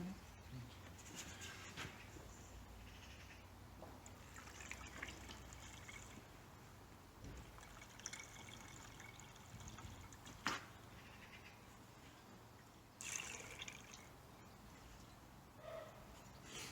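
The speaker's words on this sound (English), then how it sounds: "So now we're going to just top up the engine coolant." Red antifreeze coolant trickles and pours through a funnel into a car's coolant reservoir, a faint, uneven gurgle with a few soft clunks, quiet and close.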